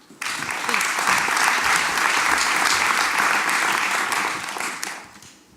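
Audience applause welcoming a speaker to the stage at a city event, a dense, steady burst of many hands clapping that swells quickly, holds for several seconds, then tapers off.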